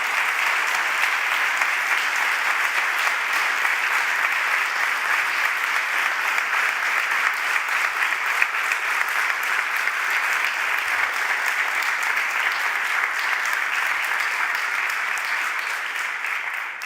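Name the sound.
applause at award ceremony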